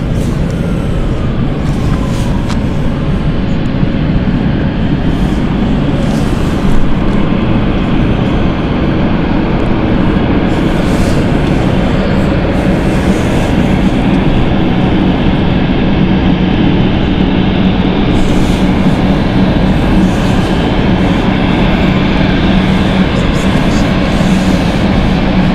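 A departing airliner taking off at London City Airport, a loud, sustained jet roar that fills the whole stretch with steady broadband rumble and no talk.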